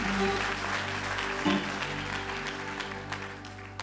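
A church congregation applauds and cheers in acclaim of God, steady hall-filling clapping throughout with a voice rising over it.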